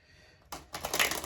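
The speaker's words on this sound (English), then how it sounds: "One more shuffle." Tarot cards, a Rider-Waite style deck, being shuffled by hand: a quiet pause, then a brisk riffle and a longer papery flutter of cards, close and soft, with no voices.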